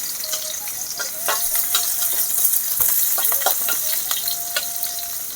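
Sliced onion hitting hot oil in a kadai where chilli has already fried, giving a loud, steady sizzle close by, with scattered clinks and scrapes from stirring and no talking.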